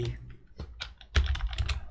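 Keys on a computer keyboard are pressed during an Unreal Engine 5 tutorial: a short run of close, crisp taps in an uneven rhythm, with a couple of heavier presses near the end.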